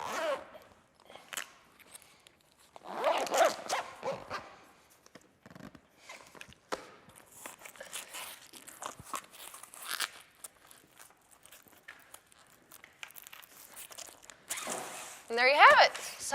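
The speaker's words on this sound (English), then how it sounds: "just to get the zipper started" The zipper on a Bestop Supertop NX soft top side window for a Jeep JK gets pulled in several short scratchy bursts, with a longer ripping run near the end. A person talks through much of it over rustling handling noise.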